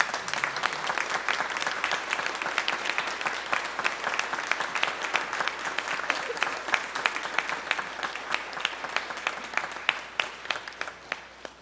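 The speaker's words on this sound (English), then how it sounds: "turn around and give Nathan a big round of applause" Sustained applause from a large church congregation during a service, dense and steady, tapering off slightly toward the end.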